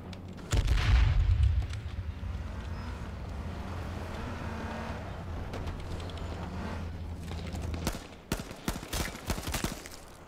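Gunfire in the video game H1Z1: a heavy booming burst opens over a droning low rumble, followed later by a rapid cluster of sharp, close shots.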